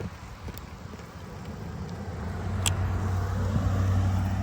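One car passes along a road, its tyre and engine noise swelling steadily from a faint rush to a louder close roar, with a light wind background.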